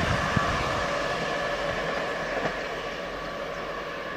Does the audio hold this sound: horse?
no